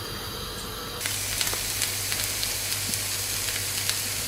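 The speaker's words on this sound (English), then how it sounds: "Fry the onions." Chopped onions and potatoes fry for a Spanish tortilla, giving a steady, close sizzle with small crackles and stirring sounds after it starts abruptly.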